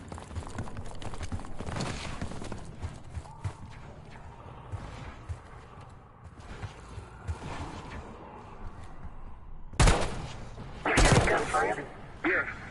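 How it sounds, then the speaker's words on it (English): Gunfire crackles in bursts during a Black Ops 6 campaign mission, sharp shots rising over a rumbling game soundtrack, loudest in a couple of heavy volleys near the end. "Gunfire? Yeah, sounds like it's coming from one of the lower."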